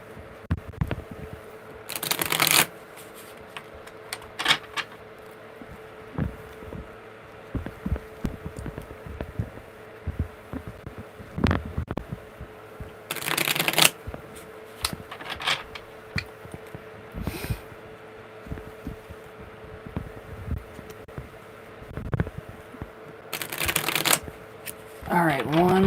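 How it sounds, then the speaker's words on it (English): Tarot cards are shuffled by hand in a live reading, with brief riffling bursts at intervals over a steady low hum, among soft handling taps and rustles. "All right, one more good shuffle."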